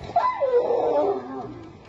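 A dog facing a leopard gives a shrill, drawn-out howling bark, its pitch sliding up and then falling over about a second, loud and close, before tailing off into a low murmur.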